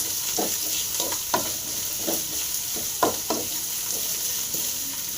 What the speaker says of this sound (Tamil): வெங்காயம் நல்லா ஃப்ரை ஆகிருக்குங்க.